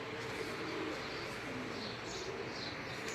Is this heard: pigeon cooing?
yes